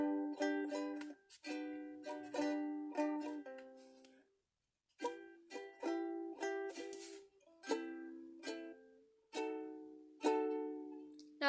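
Ukulele playing the opening line of a song: a quiet, close, plucked and strummed chord melody moving through several chord shapes in short, decaying phrases, with a brief pause midway and no speech.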